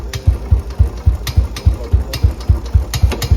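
A Royal Enfield BS3/BS4 motorcycle, freshly re-jetted to run on E20 fuel, idles slowly and loudly up close with an even, low thump-thump beat and a faint clatter.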